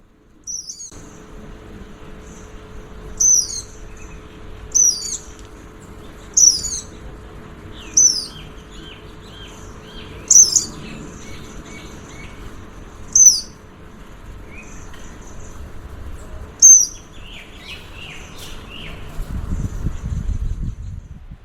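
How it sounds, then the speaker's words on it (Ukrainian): A Seychelles sunbird displaying in its mating dance gives a series of thin, high chirps, about eight short calls spaced every couple of seconds, fairly near over a quiet, faintly humming background. "Шлюбний танок нектарниці або марики Сейшельської з родини нектаркові."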